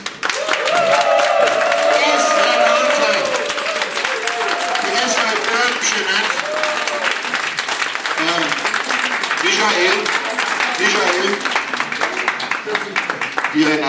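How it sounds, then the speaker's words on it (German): Loud, steady applause fills a small bistro-café, a dense clapping crowd that keeps going for the whole stretch, with voices and cheers mixed in. "Ein Applaus!"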